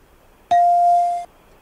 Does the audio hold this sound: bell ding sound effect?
yes